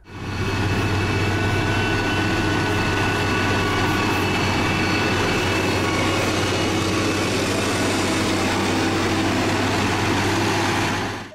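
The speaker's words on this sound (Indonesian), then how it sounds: "Di sini ada motor grader untuk menghaluskan jalan." A motor grader used for smoothing roads runs continuously, its engine giving a loud, steady drone with a deep hum that holds evenly throughout.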